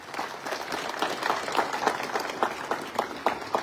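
An audience applauds its local MLA for a new facility, with moderate, fairly even clapping that comes in distinct sharp hits and carries on steadily throughout.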